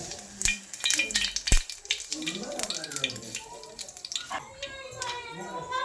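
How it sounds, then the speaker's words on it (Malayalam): Mustard seeds crackle and pop in hot coconut oil in a pan, a busy, close spluttering with sharp clicks throughout, no talking. "കടുക് പൊട്ടി ഇനി നമുക്ക് ഉള്ളി ഇടാം"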